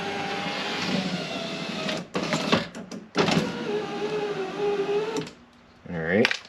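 Power window motor on a 2003 Ford Ranger lowering a stiff window, whirring in strained bursts with brief pauses between runs, close up.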